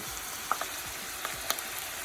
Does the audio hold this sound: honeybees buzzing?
no